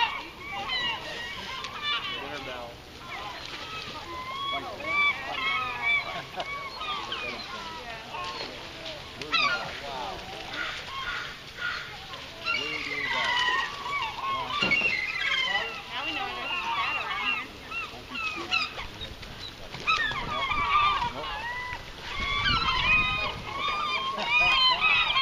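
Gulls flock around a bait barge, and a dense chorus of their squawks and cries goes on and on, close by and loud. A few splashes break into it now and then.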